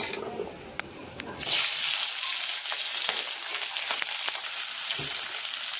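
Onions for a paneer curry hit a hot pan and burst into a loud, steady sizzle after a quieter stretch with a few clinks, the frying hiss continuing close and unbroken with occasional utensil taps.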